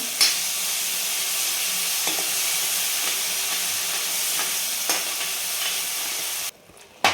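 Yogurt being stirred into spices that were fried in oil, the base of an Afghani-style egg curry, giving a steady close sizzle with soft scraping stir strokes throughout that cuts off briefly near the end.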